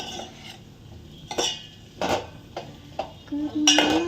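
Sabudana frying in ghee for sabakki payasa, stirred with a metal spoon in the pan: scattered scraping and clinking bursts, close and moderately loud, with quiet gaps between strokes.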